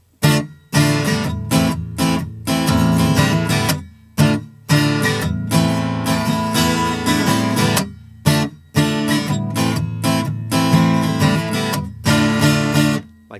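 Acoustic guitar plays, with two fingers sliding together along the 3rd and 4th strings in rhythmic strummed bursts separated by short pauses, close and clear with no voice.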